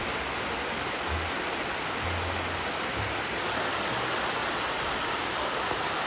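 Steady broadband roar of the waterfall at Hidden Falls on a river near a mountain cafe outside Bangkok, loud and continuous throughout with a faint low rumble beneath and no voices.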